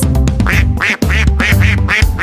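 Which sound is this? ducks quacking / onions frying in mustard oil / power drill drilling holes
ducks quacking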